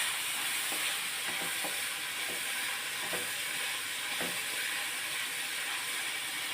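Fish roe and green chillies sizzle gently in a pan as a spoon stirs slowly, leaving soft, evenly spaced scraping strokes over a steady, quiet frying hiss.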